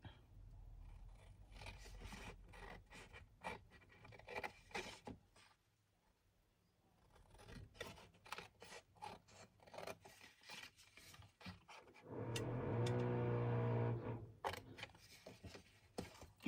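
Close, soft rasping snips and scrapes repeat in a quick, uneven rhythm as 1 cm strips are cut out of a paper card for a folding flower card, with a longer steady scrape near the end.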